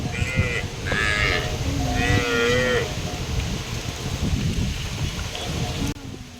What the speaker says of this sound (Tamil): அங்கே போகிற அந்த லாஸ்ட் வரைக்கும் மாடு.